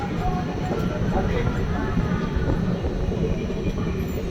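Simhadri Express train pulling into Gollaprolu station, heard from inside as a continuous rolling rumble and rattle of carriages at moderate level, with no pause throughout.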